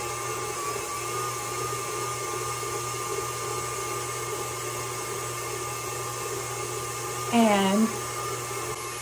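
An electric mixer beating cheesecake batter of egg and cream cheese gives a steady, even motor whir throughout, with a brief spoken word near the end.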